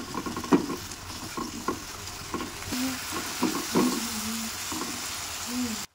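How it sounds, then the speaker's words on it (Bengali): Spice masala for a Bengali bhindi dopeyaja being sautéed in a pan with a little water, giving a steady soft sizzle with intermittent stirring scrapes, close up and without talk. "আমি এর মধ্যে অল্প একটু জল দিয়ে আবারও খুব ভালোভাবে কষিয়ে নেব"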